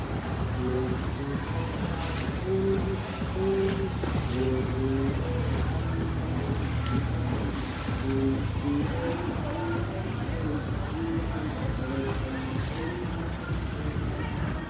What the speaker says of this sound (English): the outboard cut out just as we were entering the cave